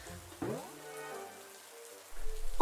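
Rain falls at a campsite as a soft, steady hiss, interrupted early by a brief rising tonal swoosh, then swells noticeably heavier in the final half second.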